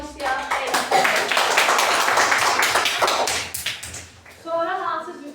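Fourth-grade classroom children clapping together in a dense, lively burst of applause for several seconds, then fading as a voice begins near the end.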